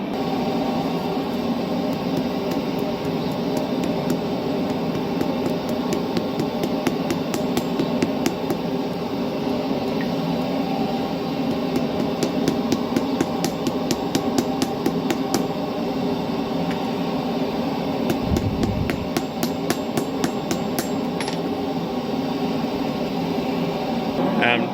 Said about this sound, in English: every time you see me pause in hammering and stop and look closely at it